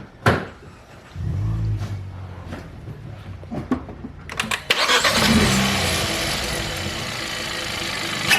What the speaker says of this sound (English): Turn this on. I want to hear the turbo noise.